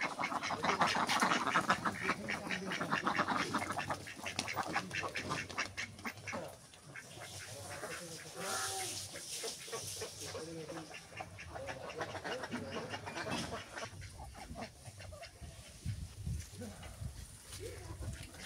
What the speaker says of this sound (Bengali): নতুন পানিতে হাঁস খেলা করতেছে।